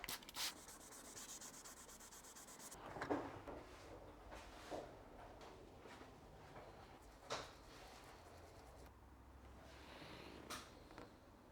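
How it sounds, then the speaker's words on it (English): Hand sanding of base coat paint on a BMW E92 320D, a soft, steady rubbing scrape that continues throughout with a few slightly louder strokes, fairly quiet and close. "I will sand down the base now"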